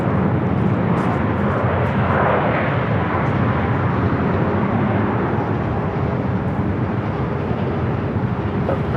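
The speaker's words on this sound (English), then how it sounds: "Starlux Flight 6 coming in from Taipei" A Starlux airliner on arrival from Taipei at Los Angeles airport gives off a loud, continuous jet roar that swells slightly early on, then holds steady without any voices.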